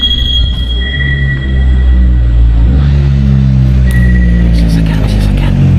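A vehicle rumbles through the enclosed Kaybiang Tunnel, a loud, steady low drone with an echoing roar that swells midway, while voices talk over it.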